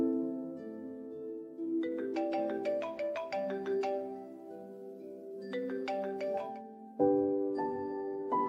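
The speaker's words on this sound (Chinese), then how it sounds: "您拨打的电话现无人接听，请稍后再拨。" A phone call that goes unanswered, with a bright electronic ringback melody repeating in short rhythmic bursts, steady and close, with no voices.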